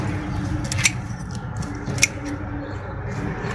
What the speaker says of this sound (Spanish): Así que vamos a ir cortando algunas ramitas.